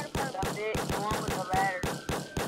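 Rapid bursts of gunfire in a Roblox fire department roleplay game, a string of sharp regular shots across the whole stretch with tonal siren-like game sounds layered over them.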